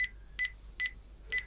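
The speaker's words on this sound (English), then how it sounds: "it does actually make a beeping sound" A Cybertronic Transformer e-cig mod from Cybercig gives four short, high electronic beeps at a steady rhythm as its dial is turned, close and clear with nothing else heard.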